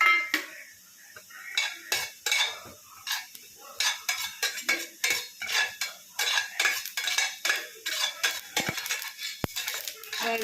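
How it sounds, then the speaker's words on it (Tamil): Fennel seeds dry roasting in a pan while being stirred, with steady scraping and clinking of a spoon against the metal, rapid rhythmic strokes close up, plus a couple of sharp taps near the end. "சோம்பு எடுத்து அதையும் லைட்டாக வறுத்துக்கிறோம்"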